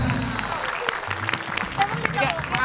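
Studio audience applauding on an Indonesian TV talk show, a steady wash of clapping that runs the whole time, mixed with other sounds and some chatter from the stage.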